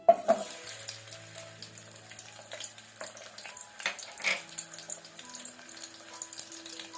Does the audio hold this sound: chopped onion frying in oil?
yes